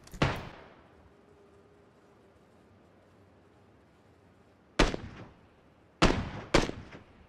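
Gunshots in PUBG, heard as four loud, sharp reports with short echoing tails: one at the start, then a long quiet gap, then three more close together near the end, over faint ambient hiss.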